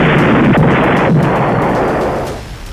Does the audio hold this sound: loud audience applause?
no